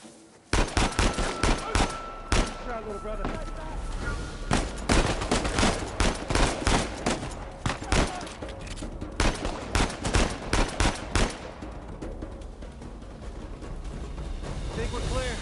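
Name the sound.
gunfire in the video game Uncharted 4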